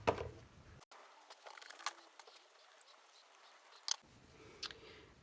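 Scissors snipping through paper at a craft table, a few soft close cuts and rustles spread out over a quiet background.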